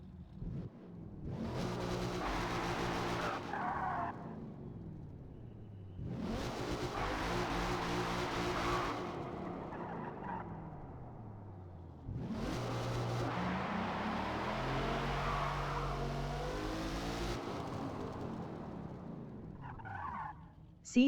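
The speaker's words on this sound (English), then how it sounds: "third gear finally let me launch the car pretty hard and it didn't bounce off the limiter" Car launching under full throttle in third gear in Forza Motorsport, three separate hard launches, each a loud rising engine roar lasting a few seconds with pauses in between.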